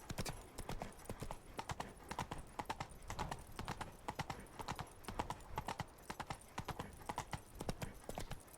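Roach the horse's hooves clip-clop in a fast, steady galloping rhythm across ground in The Witcher 3, loud and close, continuing without pause throughout.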